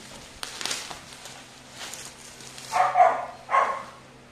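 Two short dog barks near the end, moderately close, following quieter shuffling and rustling sounds.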